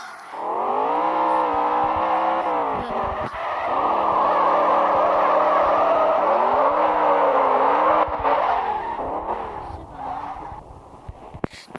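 A sports car engine roars loudly at high revs around 302 km/h, its pitch rising and shifting through gears as it holds a sustained, powerful drone.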